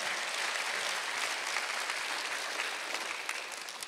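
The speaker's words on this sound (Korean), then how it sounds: "할 수 있는 사람만 박수 쳐보세요" A church congregation at a Sunday worship service claps together in a dense, sustained round of applause that stays loud and even, then eases slightly toward the end.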